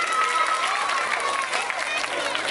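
An audience at a Saraswati Puja magic show in Dankuni claps in a sustained burst of applause, fairly near and dense, with a voice and tonal sounds over the clapping.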